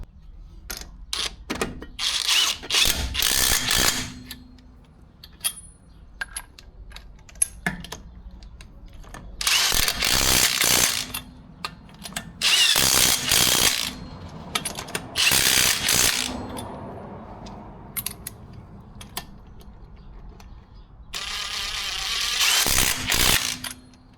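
Ratchet tightening lug nuts while a car wheel is refitted after fitting wheel spacers, with rapid clicking bursts repeated several times close up and quiet pauses between them.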